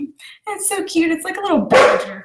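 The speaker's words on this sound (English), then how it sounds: "And that's my dog barking," A pet dog barks indoors in short, sharp yips heard close by, mixed in with someone speaking over them.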